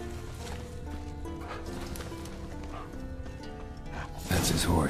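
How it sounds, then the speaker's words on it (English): Horse hooves clopping steadily over background music in the video game The Witcher 3, then a loud horse whinny near the end. "That's his horse."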